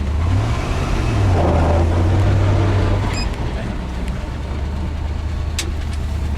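Engine of a 1982 Chevy C30 truck while driving, a steady low rumble that rises briefly and then settles, heard from inside the cab with road and wind noise and some faint talk.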